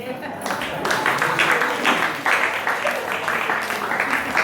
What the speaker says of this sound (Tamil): கைத்தட்ட 10 பேருக்கு ரொம்ப நன்றி